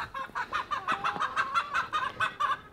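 A hen clucks and chatters up close in a rapid run of short, choppy calls, about a dozen bursts in quick succession with no speech over them.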